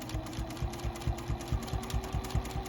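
A Juki sewing machine stitches binding onto a quilt, its motor whirring steadily with a fast, regular rhythmic chatter of the needle throughout, close and moderately loud with no talking.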